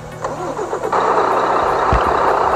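Bus engine in Bus Simulator ID, running on an MBS Discovery bus mod: a starter cranks briefly, then the engine catches and settles into a loud, steady rumbling idle with a couple of short knocks near the end.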